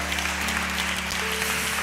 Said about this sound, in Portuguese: aplaude ao Senhor mais uma vez